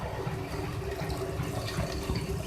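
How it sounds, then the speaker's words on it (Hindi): Water poured into a cooking pot of dal masala, a steady broadband splashing rush that holds evenly for the whole stretch, with no talk over it. "अब इसके अंदर मैं पानी ऐड करूँगी"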